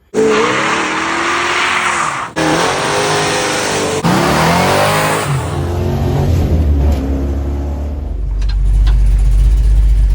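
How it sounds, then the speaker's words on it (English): A 1970 Dodge Challenger convertible with a 408 stroker engine revs hard, loud and close, its rising engine roar repeating in surges before settling into a deep low rumble near the end. "Got the old 1970 Dodge Challenger convertible 408 stroker."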